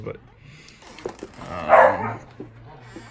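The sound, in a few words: dogs barking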